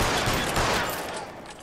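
Machine gun fire in the video game L.A. Noire: a short, dense burst of rapid shots, loud and close, fading over under two seconds.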